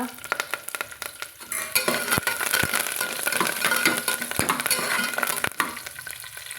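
Garlic cloves, dried red chili and curry leaves fry in hot oil in a single pot, a busy crackling sizzle with repeated stirring scrapes and a few sharp utensil knocks against the pan.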